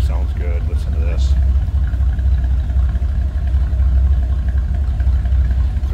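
A 1959 Ford Fairlane 500 Galaxie Club Victoria with a 332 V8 idles with a deep, steady low rumble close by, holding evenly throughout.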